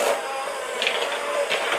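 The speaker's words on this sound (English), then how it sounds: "I'm also going to use my little mixer here. And I'm going to mix it really well." A KitchenAid hand mixer whirring through peanut butter cookie dough, a loud continuous motor drone with a steady tone throughout.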